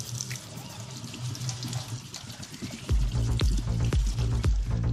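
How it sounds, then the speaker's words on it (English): Running tap water splashes over a russet potato being scrubbed with a non-abrasive scouring pad, a continuous rushing flow with irregular splashes and thumps growing stronger midway. "First, I'll wash the baked potato with a non-abrasive scouring pad."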